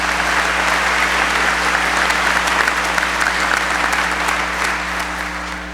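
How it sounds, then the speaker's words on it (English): A graduation crowd applauds a swimming team's championship, a broad, continuous wash of clapping from a large gathering, steady throughout with a low steady hum beneath and a gentle fade near the end. "Let's clap."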